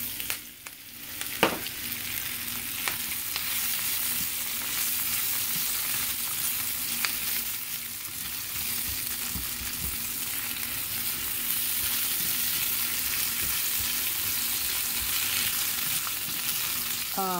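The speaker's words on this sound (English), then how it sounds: "Adding some more curry leaves in here. And again, because they had water in them, they're gonna sizzle." Potatoes and wet curry leaves sizzle hard in a wide frying pan, a continuous loud crackling hiss with occasional stirring knocks and spatters throughout.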